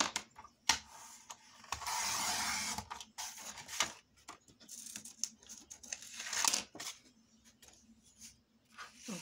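Paper being cut and handled while making a window-style album, with crisp snips, rustles and crinkles in irregular close bursts, separated by short quiet gaps.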